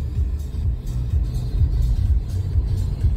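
A car drives along a road in Melbourne, a low steady rumble of engine and tyres heard from inside the cabin, continuous and fairly loud with no talk.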